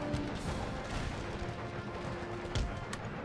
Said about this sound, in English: I am firing howitzer shots on this guy